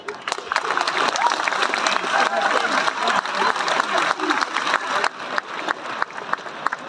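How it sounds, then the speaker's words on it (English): A crowd at a Clare Munster minor championship gathering claps steadily for the officials and teams in a dense, sustained round of applause with no pause. "round of applause"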